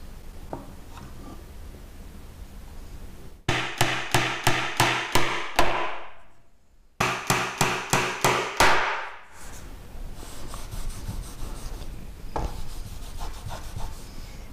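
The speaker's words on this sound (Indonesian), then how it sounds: "Sebelum kita skrup, kita paku dulu biar dia nggak lari-lari pada saat kita bor." Nails are hammered into a wooden tray during a DIY woodworking build: two quick runs of sharp, ringing hammer blows, each accelerating, set apart by quieter rubbing and handling noise and with no talk.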